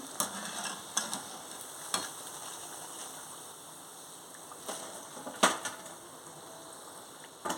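Punukulu fritters made from poha and curd frying in hot oil, a steady low sizzle with scattered sharp crackles and pops, no talking.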